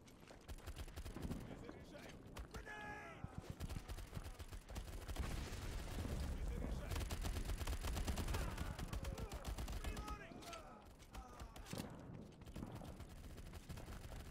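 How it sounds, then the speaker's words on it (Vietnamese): Gunfire rattles in the World War 2 combat video game World War 2: Battle Combat, dense bursts of rifle and machine-gun shots rolling continuously and swelling in the middle, fairly soft overall. "Tiếng súng nó nghe nó cứ hơi hiền nhỉ, mà chắc là súng của chiến tranh thế giới thứ hai nó như vậy thôi"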